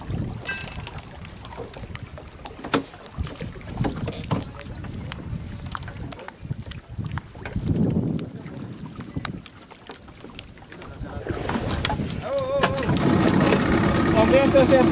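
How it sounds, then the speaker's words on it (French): A boat motor running out on open water, a steady droning engine under wind buffeting the microphone and splashing, growing louder toward the end while people talk over it. "Le moteur, ça marche."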